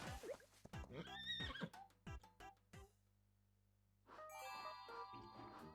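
Cartoonish horse from the video game Miitopia, whinnying and neighing happily while being brushed, with a few clip-clop hoof sounds and chiming jingles. Game music plays throughout, quiet and close.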